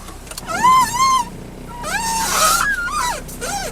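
A car engine strains and whines while the tires slip on a snowy hill, apparently imitated by a human voice as rising and falling whining wails that swell louder in the middle.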